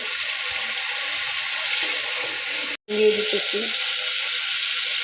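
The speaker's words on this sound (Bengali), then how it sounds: "এই মশলার সাথে আবার হলুদ লবণ একসাথে দিয়ে দিতেছি" Turmeric, salt and spices sizzle hard in hot oil in a pan for a tomato-lemon fish curry, a loud steady hiss that cuts out for a split second before resuming.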